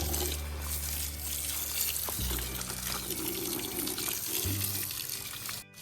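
Water splashes and pours steadily while a baby elephant is bathed outdoors, a continuous close wash of running water with a low hum underneath and no talk.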